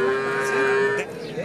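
A native breed bull calf about a year old gives a single close, clear moo lasting about a second at a cattle market, then the sound trails off.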